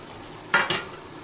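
Soybean chunks, fried earlier as pakoras, are tipped into a pan and stirred in, giving two quick clattering scrapes of a utensil against the pan, close and clear over a quiet background.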